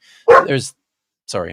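A pet dog barks sharply indoors, short close bursts mixed with a man's brief speech and then a pause.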